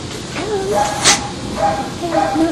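Somebody else's dog whimpers and yips in a few short, high, wavering bursts, fairly close, over faint background hiss.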